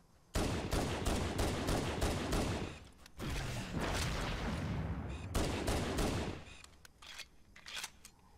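Rapid bursts of pistol fire in Halo: Combat Evolved, loud and close, with dense volleys of shots, a brief pause near the three-second mark, then more volleys fading out toward the end.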